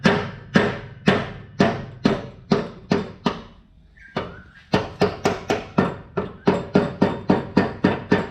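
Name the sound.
rubber hammer knocking out spindle shaft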